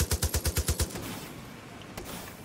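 Gunfire in Far Cry New Dawn: a rapid burst of about eight evenly spaced automatic shots, loud and punchy, then fading into a low rumbling tail with a single distant shot later.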